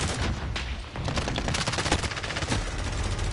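Rapid, dense gunfire in Call of Duty, loud automatic bursts and overlapping shots running continuously throughout.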